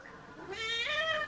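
A hungry cat gives a single drawn-out meow that rises and swells, heard close and clear over a quiet room with no voices.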